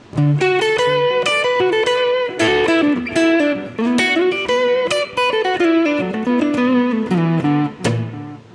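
An electric guitar plays a melodic line with echoing repeats and a spacious reverb tail, notes ringing and overlapping, with no voices.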